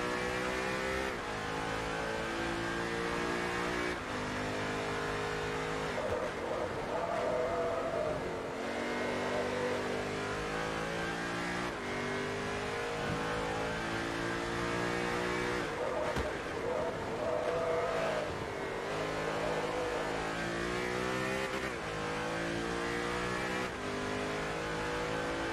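A race car engine in Forza Motorsport 3, during a Class R2 North America Tour event, roars continuously at high revs, rising and dropping through repeated gear shifts, loud and steady throughout with no pause.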